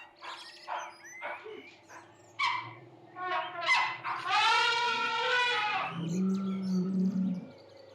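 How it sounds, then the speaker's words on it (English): A parrot in Congolian swamp forest gives a run of loud whistles, harsh squawks and rising calls, fairly close, with a low steady hum beneath and no talking. "This parrot is renowned for its ability to mimic human speech and surrounding sounds"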